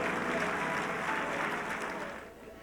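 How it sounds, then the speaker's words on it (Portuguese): A church congregation applauding during a worship service, dense sustained clapping from many hands that holds steady and then fades out near the end, with no voices. "Podemos aplaudir sim ao Senhor Jesus que está conosco."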